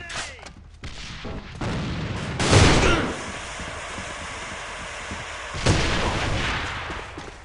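Gunfire and grenade blasts in the online shooter A.V.A, with two loud bursts a few seconds apart over a rattling background of shots, fairly close and with no talk.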